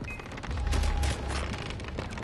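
Gunfire in the video game Far Cry 3, a burst of several rapid shots and booming reports from nearby, followed by lingering rumble and scattered cracks.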